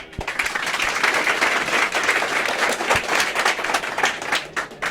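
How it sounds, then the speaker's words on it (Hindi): Lively applause from a crowd of children hoping to join the Indian Army, dense overlapping clapping that stays loud and steady throughout, with a few sharper individual claps standing out. "ये तालियां उन बच्चों की हैं जो इंडियन आर्मी बनना चाहते हैं।"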